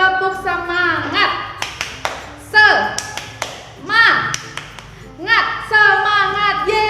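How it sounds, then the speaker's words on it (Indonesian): Rhythmic 'tepuk semangat' clapping chant in a third-grade lesson, with bursts of claps and taps alternating with a lively chanting voice, fairly close and loud. "Biar makin semangat, kita tepuk semangat dulu bersama-sama."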